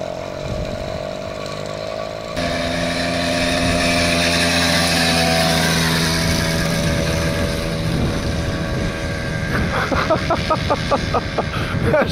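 A small engine on a motorized bicycle salvaged from the trash buzzes loudly and steadily on a test ride, its raspy drone swelling as it revs up, then sputtering unevenly near the end.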